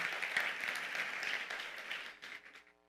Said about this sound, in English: I think it deserves an applause, yeah.